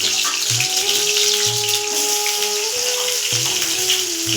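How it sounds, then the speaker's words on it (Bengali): Potato pieces fry in hot oil for chicken khichuri, a loud, continuous close-up sizzle and crackle with a faint steady hum underneath. "সেই আলুটা আমি এখন ভেজে নিচ্ছি"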